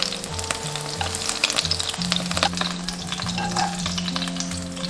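Slices of cured pork pan-fry in oil until golden on both sides, giving a steady, close sizzle with crackling pops that continue throughout.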